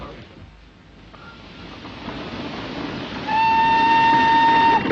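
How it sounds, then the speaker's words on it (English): A train rumbles in steadily, growing louder, then a long steady whistle sounds over the rolling noise as it arrives. "The train's coming in."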